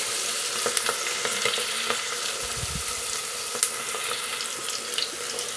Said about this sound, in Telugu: దీనిలోనే కరివేపాకు వేసుకుని వేయించుకోవాలి ఉల్లిపాయలు బ్రౌన్ కలర్ వచ్చేంత వరకు కూడా వేయించుకోవాలి